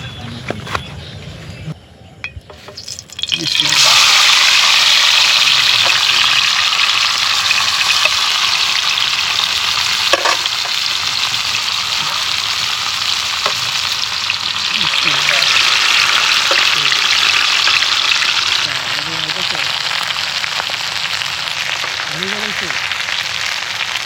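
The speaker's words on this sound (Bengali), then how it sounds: "মাছ ভাজার জন্য আমরা দিয়ে দিচ্ছি সরিষার তেল" Mustard oil heats in a pan for frying tilapia, starting with a low, quiet rumble, then a loud, sustained sizzle that rises after a few seconds and holds steady, softening slightly toward the end.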